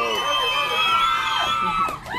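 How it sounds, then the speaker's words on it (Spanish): A party crowd whoops and cheers for Mario's birthday at a live DJ event, a dense wash of shouting voices, fairly loud and close, tapering slightly near the end. "un aplauso nuevamente para Mario"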